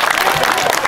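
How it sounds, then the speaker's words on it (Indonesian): An audience at a public dialogue event with a regional governor claps in a brief, dense burst of applause, close and loud, lasting about a second. "Tepuk tangan."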